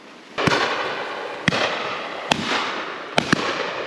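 Shotgun shots at pheasants on an Exmoor shoot crack out four or five times, sharp and loud, with a pair close together near the end and an open outdoor tail after each blast.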